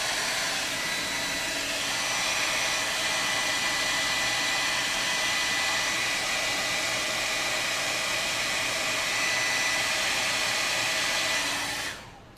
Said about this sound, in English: I'm going to go ahead and apply a little heat because I don't know what they've put on there.